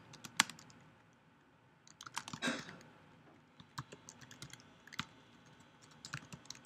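Irregular bursts of computer keyboard typing while entering code, near and fairly quiet, with pauses between flurries of keystrokes and one louder clattering burst midway, no voice present.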